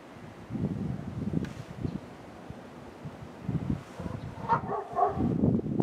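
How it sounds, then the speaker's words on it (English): Dogs outdoors in snow in Tennessee give a few short barks toward the end, fairly faint and distant, over steady wind and rustling noise. "Wanted to video my dogs in the snow."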